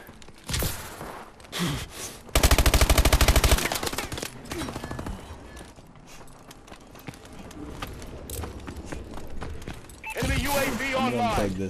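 Gunfire in Call of Duty Advanced Warfare, with scattered shots and one dense automatic burst near the middle, mixed with other game sounds and a voice exclaiming.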